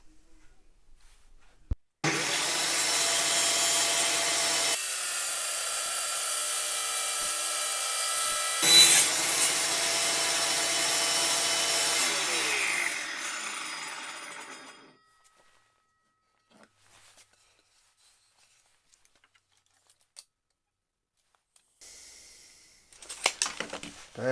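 Homemade table saw with a clamping fence on a slide cuts through wood, a steady loud sawing whine lasting about thirteen seconds with a brief surge midway, then dying away to near silence with a few faint knocks and rustles at the end.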